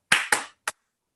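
Three sharp hand claps close by, two quick strong ones followed after a short pause by a lighter third, with no talk over them.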